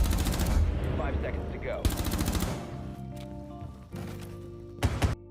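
Bursts of MP5 submachine gun fire from the Arknights video game, rapid automatic volleys recurring in short clusters, loud and close, with a voice speaking over and between them.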